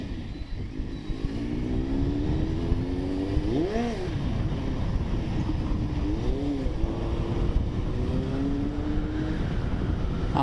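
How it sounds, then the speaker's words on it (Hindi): A superbike engine revs repeatedly, its pitch rising and falling in several swells over a steady loud motor drone, heard up close outdoors amid a crowd on an Indian street. "बहुत आज रेस बूम दिए है। इंजन ऑयल अब चेंज करने पड़ेगा।"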